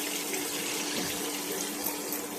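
Tamarind pulp water poured into a pan while drumstick pickle is being made, a steady, close, broadband splashing rush that lasts throughout with no talk over it.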